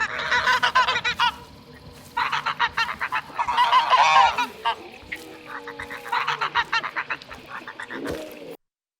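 Geese honk in repeated bursts of calls layered into the ambience of Hunt: Showdown, a game set at the turn of the century, with several loud clustered volleys separated by brief pauses.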